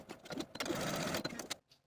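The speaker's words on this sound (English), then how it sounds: "take these back to your sewing machine and top stitch along the 3 seams that we just sewed" A sewing machine runs in a quick burst of rapid mechanical stitching, close up, then stops abruptly into near silence.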